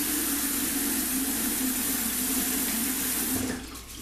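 A steady stream of running water rinses off, loud and continuous and close by, then drops away near the end as the flow is cut.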